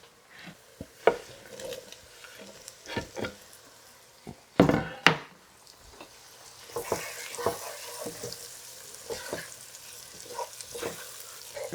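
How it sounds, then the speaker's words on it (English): Potatoes sautéing in a pan for a Persian onion and fenugreek soup, a steady soft sizzle under repeated scrapes and stirring clatter, with one loud burst of sizzle and knocking in the middle; no talking. "we start sauteing a little bit of the potatoes"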